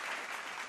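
An audience at a Hindi comedy poetry gathering claps, a short dense burst of applause that stays steady and moderately loud with no voices over it.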